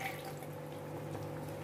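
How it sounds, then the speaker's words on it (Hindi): A bowlful of water pours steadily into chicken gravy for a white chicken and cashew paste curry, a continuous close splashing and trickling with no talk over it. "मैं एक कटोरी पानी डाल दे रही हूँ इसमें"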